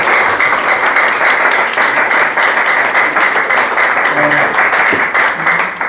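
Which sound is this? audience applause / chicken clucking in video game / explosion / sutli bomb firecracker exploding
audience applause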